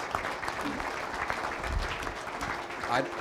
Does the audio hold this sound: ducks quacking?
no